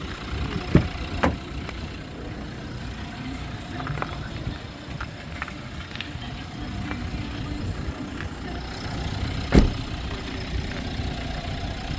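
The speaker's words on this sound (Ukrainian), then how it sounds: "На даний час працює двигун." A Mercedes car engine idles steadily at a low rumble at a car market, with a few sharp clicks and knocks over it and no voices.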